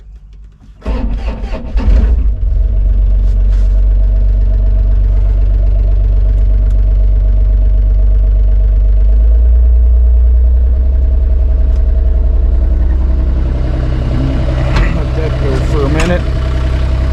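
A mini excavator's diesel engine, cold at around freezing after its glow plugs warm, cranks with a few sharp bursts, catches and settles into a loud, steady idle that rises slightly in pitch partway through.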